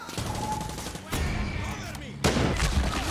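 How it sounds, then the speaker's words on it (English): Rocket launcher blasts and gunfire in the Far Cry 6 video game: dense, continuous fusillade of shots with heavy booming hits, punctuated by two sharp loud bursts, with a player's voice exclaiming over the chaos. "Whoa, they got rocket launchers!"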